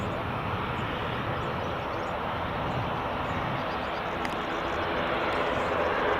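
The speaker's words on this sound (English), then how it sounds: "And Aer Lingus ATR just taxiing out now." An Aer Lingus ATR turboprop taxiing at Edinburgh Airport, a constant loud engine roar with a faint high whine, steady and unbroken throughout.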